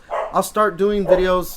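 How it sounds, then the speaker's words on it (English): A pet dog barks and whines in the background in short, yelping bursts, mixed in with a man's continuous close-up talking. "And my dog is agreeing with me as well, if you can hear him in the background."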